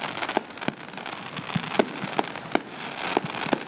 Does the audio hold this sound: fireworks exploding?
yes